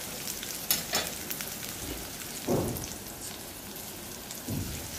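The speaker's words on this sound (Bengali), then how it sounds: "পেঁয়াজটা ভেজে নিব" Onions sizzle in hot oil in a pan on the stove, a steady crackling hiss with a few louder stirring bursts.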